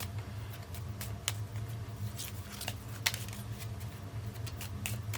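A deck of Arkham Horror card game cards is shuffled at a table, a faint, steady papery riffling with scattered soft snaps and no voices.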